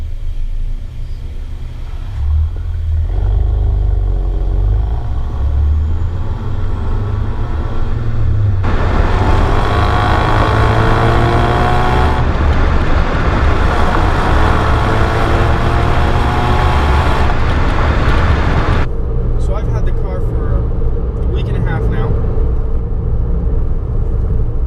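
A 2016 Ford Focus RS engine runs loud and close, a steady rumbling drone whose pitch shifts in distinct steps as revs rise and settle, with no voices over it.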